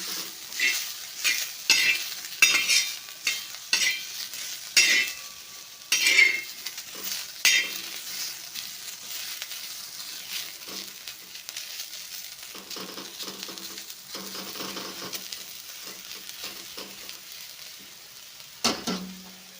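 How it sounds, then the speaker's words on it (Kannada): Dough pockets for North Karnataka style karjikai being roasted in oil in a pan, a soft continuous sizzle under repeated close scrapes and clinks of a metal utensil stirring, with a sharp clatter near the end. "ಎಣ್ಣೆ ಹಚ್ಚಿ ಹುರಿಬೇಕು ಚಂದ"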